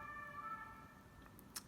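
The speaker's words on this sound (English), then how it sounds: "when a siren is going off like that" An emergency siren sounds at a distance, its steady wailing tones low and faint in the background, with no voices over it.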